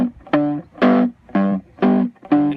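Electric guitar through a distorted amp plays a palm-muted ragtime piano left-hand pattern, alternating low bass notes and chord stabs in a slow, even rhythm of about five strokes, close and loud with no talking.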